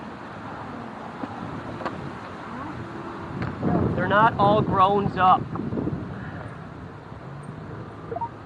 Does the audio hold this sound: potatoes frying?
no